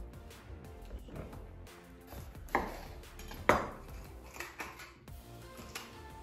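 Bell peppers being cut and hollowed out with a knife for stuffing, soft irregular cutting and scraping taps with two sharper crunchy snaps in the middle, close and quiet.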